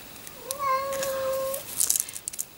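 A house cat gives one drawn-out, clear meow lasting about a second, close and fairly loud in a quiet room, followed by a few soft rustling knocks.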